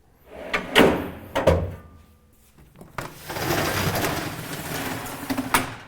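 A compartment door on a new volunteer fire department fire truck opens and shuts with a few sharp wooden-sounding thumps and latch clicks, followed by a longer stretch of close rattling and rustling handling noise.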